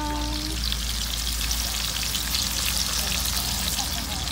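Pork chops frying in a pan give a steady, close sizzle with crackling spatter that holds at an even level throughout, with no talk over it.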